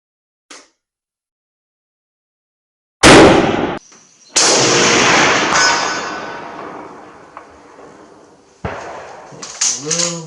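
A Russian M91/30 PU sniper rifle fires one sharp, loud shot outdoors, with a long rolling echo, then metallic clanks as the bolt is worked and a brief voice.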